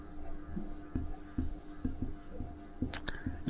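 Chalk or marker on a board during a biology lesson gives short, rhythmic scratching strokes and taps, close and fairly dry, with a few squeaky upward swipes between them.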